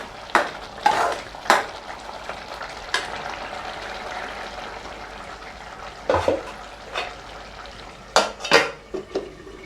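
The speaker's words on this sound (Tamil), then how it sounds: "இடையில ஓப்பன் பண்ணி கிளறி விட்டுக்குவோம்." A spoon stirs prawn gravy in a covered pot: scraping metal-on-pot clanks and knocks come in irregular bursts over a steady low sizzle, close by and with no voices.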